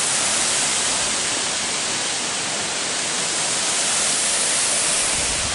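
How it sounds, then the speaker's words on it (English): A mountain waterfall seen from a mountainside café roars as a steady, loud, broadband rush of falling water that fills the whole stretch without letup, with no talking. "Beautiful waterfall."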